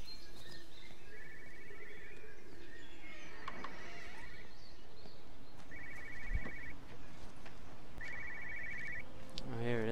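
A telephone in the video game Everybody's Gone to the Rapture rings in repeated short trilling bursts at a moderate distance, with ambient birdsong and a few footsteps around it.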